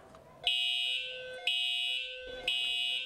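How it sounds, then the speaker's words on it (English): School fire alarm sounding in three loud, piercing electronic blasts of about a second each, evenly spaced, with no talking. "when that alarm sounds and those lights flash"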